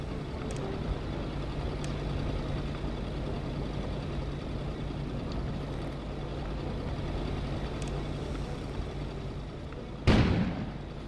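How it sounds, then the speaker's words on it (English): A single sudden explosion bursts near the end against a steady snowstorm-like rumble outside, in the video game Kona on PS4. "An explosion suddenly occurred outside."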